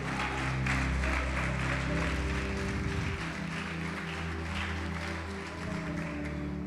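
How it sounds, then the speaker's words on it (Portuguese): Church congregation applauding together in a steady, dense wash of clapping that fills the room, with a low hum underneath and no clear speech. "Pode aplaudir,"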